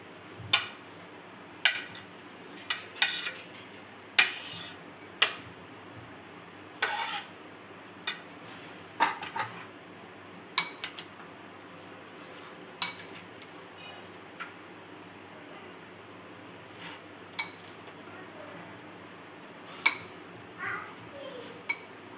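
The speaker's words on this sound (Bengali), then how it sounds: "আমি 2 চামচ দিয়ে একসঙ্গে মিক্স করে নিচ্ছি।" Two spoons mixing a snack with chopped cucumber in a bowl, sharp metallic clinks and taps scattered irregularly over a quiet background, with no talk.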